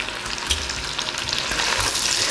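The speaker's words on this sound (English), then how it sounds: "Toss this all together and then cook for about 8 to 10 minutes until the onion is translucent and tender." Diced onion, carrots and celery fry in a pot with a loud, constant sizzle, while tossing adds low thumps and shuffling clatter over the crackle.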